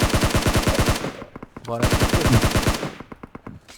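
Automatic gunfire in PUBG Mobile, rapid evenly spaced shots in two loud bursts separated by a short pause, with a few trailing single shots at the end.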